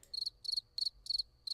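Cricket chirp sound effect from a Discord soundboard: four to five short, bright, trilling chirp bursts in an even rhythm, clear and close with nothing else heard.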